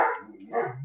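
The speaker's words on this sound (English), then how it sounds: "That would be my dog." A dog barks indoors at home: two loud, close woofs with a short gap between them, the second trailing into a lower whine.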